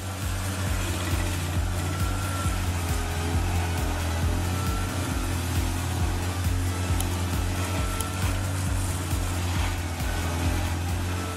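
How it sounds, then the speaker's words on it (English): A Vermeer SC1102 tree stump cutter grinds out tree roots on a street, its engine giving a loud, steady droning hum with a pulsing low rumble and continuous grinding noise throughout. "The Vermeer, South Carolina 1102, a tree stump cutter, operates on St. Paul Avenue."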